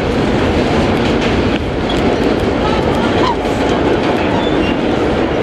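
A vintage R1 New York subway train runs between Queens Plaza and 2nd Avenue, a loud, continuous roar of wheels on rails with rhythmic clattering heard from on board.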